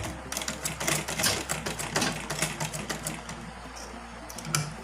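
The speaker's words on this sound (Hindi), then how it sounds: "इसको 1 इंच चला के सिलाई फिर डबल कर ले रहे हैं।" A sewing machine stitches a dhoti salwar in short, rapid clattering bursts with brief pauses between runs, close and steady, with a low motor hum underneath.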